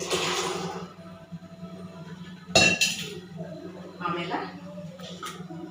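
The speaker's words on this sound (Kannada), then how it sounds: "ಕಡಲೆಕಾಳು ಹಾಕ್ಬಿಡೋಣ" Chickpeas are tipped into a pot of masala with a sudden rattling clatter partway through, among scattered clinks of utensils, while someone speaks.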